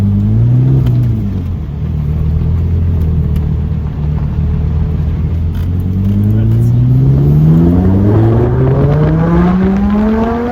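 Lamborghini engine droning and rising in pitch as the car accelerates on the road, loud and steady from inside the cabin, with people talking over it.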